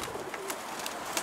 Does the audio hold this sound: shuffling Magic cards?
no